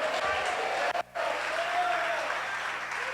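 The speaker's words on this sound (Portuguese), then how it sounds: "Você pode aplaudir ao Senhor e dar uma glória a Deus." A church congregation claps in praise during a Pentecostal service, a steady broadband wash of applause with a brief dip partway through, continuing close and loud to the end.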